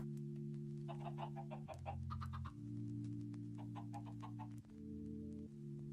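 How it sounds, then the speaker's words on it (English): Chickens clucking in the modded video game Minecraft, a string of short soft clucks in bursts over a loud steady droning music or ambient tone, with no speech. "Let's go feed our chickens again."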